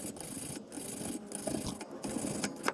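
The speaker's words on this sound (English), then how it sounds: "next step, you grab your wire brush," A wire brush scrubbing debris off the rear brake hub of a 2011-2020 Toyota Sienna, close, continuous rasping strokes in an uneven back-and-forth rhythm.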